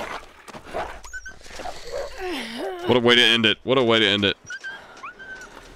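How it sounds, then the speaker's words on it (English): A dog in The Long Dark snarls and whimpers close by, with yelping and growling cries that rise into a couple of loud, drawn-out howls, while someone talks over it. "It's a dog."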